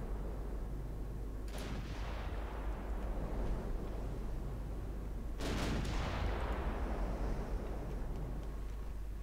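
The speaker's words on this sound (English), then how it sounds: "While only the A and B turret fires." Warship A and B turrets fire in the naval game Ultimate Admiral Dreadnoughts: two heavy booming shots, a few seconds apart, each with a rolling decay over a constant low rumble.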